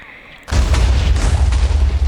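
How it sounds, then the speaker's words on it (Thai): An explosion blows up a village in a video game: after a quiet lead-in a sudden loud boom hits, followed by a sustained rumbling roar with crackling bursts. "เราจะระเบิดหมู่บ้านนี้อีกทีหนึ่ง"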